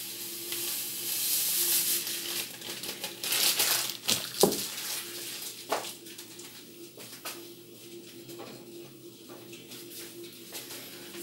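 Tapioca being stirred into warm milk in a pan to make creamy cuscuz, a soft continuous wet scraping and sizzling hiss with a few sharper knocks of the utensil, close and fairly quiet throughout.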